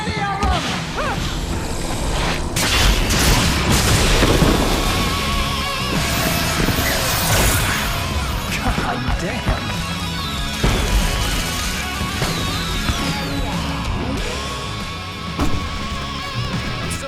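Fireworks burst amid combat at a rock concert stage in the video game Alan Wake, with loud whooshes, crashes and booms layered over a busy game soundtrack for the whole stretch.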